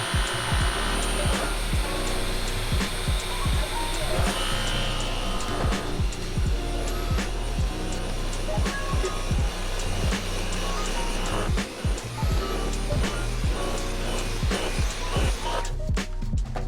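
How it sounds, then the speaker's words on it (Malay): A Dyson V12 Detect Slim cordless vacuum runs over carpet with a steady, loud motor whine throughout, broken by repeated short bumps and clicks as the head is pushed back and forth. "sekarang kita akan vacuum pula kapet yang kedua"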